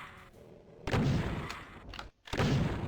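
Rocket launcher blasts in the demon-shooting game DOOM, two heavy booming explosions close and loud with a short gap between them, over a low ambient rumble.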